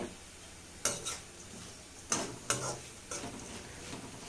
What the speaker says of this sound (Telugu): కొబ్బరి పొడి వేసి 2 నిమిషాలు వేయించిన తర్వాత స్టవ్ ఆపేయాలి